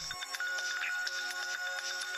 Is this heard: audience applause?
no